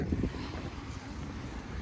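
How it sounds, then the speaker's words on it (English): Strong gusting wind buffets the microphone during a snow squall on a ski lift, with gusts around 20 to 30 miles per hour producing a steady, loud low rumble throughout the short stretch. "We have a snow squall right now."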